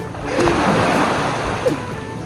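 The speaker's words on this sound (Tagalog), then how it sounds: "Ang lamig-lamig ng alon. Palakas na ng palakas, guys." Cold sea waves break and wash steadily onto a beach shore, a loud, continuous surging rush with splashing, while a voice briefly speaks over it.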